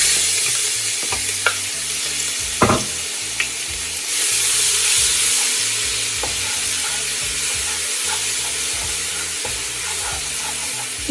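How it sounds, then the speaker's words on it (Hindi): Garlic and ginger fry in a cup of hot oil in a cooking pot, giving a steady, continuous sizzle with a few soft clinks and stirring knocks along the way. "1 प्याली तेल जो है मैंने देगची में गर्म कर लिया है। मैं इसमें सबसे पहले लहसुन अदरक डालूंगी।"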